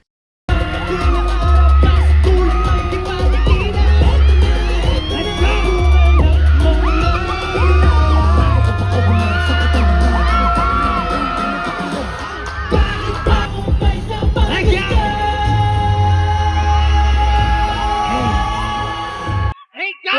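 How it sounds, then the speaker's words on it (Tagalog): A packed concert crowd in Davao screams nonstop, loud shrieks and yells layered over pounding live music, the roar swelling and dipping before cutting off at the end. "Mula nang lumabas sila sa stage, ay nakoday, non-stop ang sigawan."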